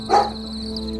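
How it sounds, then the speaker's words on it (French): A single short dog bark, close and fairly loud, over a faint steady electrical hum. "ça c'est le chien, c'est pour la prochaine voyance."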